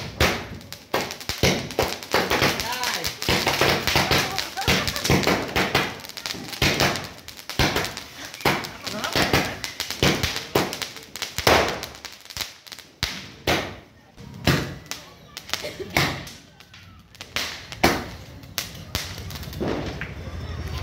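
Diwali firecrackers and fireworks burst in a long, dense run of sharp cracks and bangs, loud and close at first and thinning to scattered pops, with voices faint beneath.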